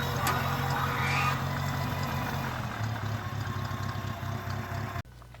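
A small International Farmall Cub farm tractor engine idles steadily with a low, chugging rumble, running continuously before cutting off abruptly near the end.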